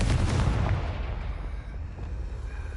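A Confringo spell explodes in Hogwarts Legacy, a loud, close blast with a heavy low rumble that decays into a rolling tail.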